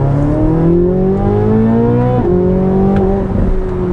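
A Chevrolet C8 Corvette Z06 track car engine revs up to about 7,500 RPM, a loud, continuous, rising scream with a brief dip and climb again, heard alone and close.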